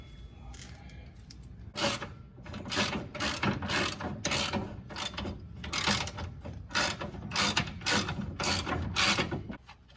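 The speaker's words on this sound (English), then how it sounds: "the last part I think I need to unbolt is just the lower control arm" A hand ratchet works loose the 19 mm lower control arm bolt on a car, a steady run of sharp metallic clicks in quick bursts, close and loud, with brief pauses between strokes and no talking.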